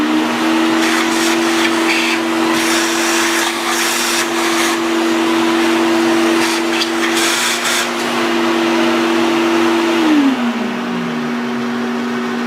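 A vacuum cleaner runs steadily with a loud, constant whine, shifting in tone as it is moved about, then its pitch slides down as the motor is switched off and spins to a stop near the end.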